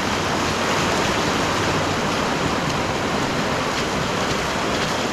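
A small river in flood, breaking its banks, rushes loudly under a little bridge in the Cheviot hills, a steady, dense roar of churning water filling the whole stretch with no voices.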